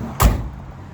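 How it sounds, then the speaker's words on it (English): A single solid thunk as the door of a 1972 Gran Torino Sport is shut close by, followed by a brief fading resonance. "Door shut like a brand new car."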